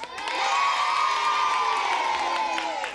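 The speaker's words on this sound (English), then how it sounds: "Round of applause for Julia!" A game-show studio audience cheers and shouts loudly for a contestant named Julia, with children's voices prominent in a sustained burst of crowd noise.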